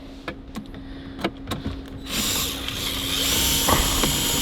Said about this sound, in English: then we're gonna come in with the lightweight screw gun with a magnetic tip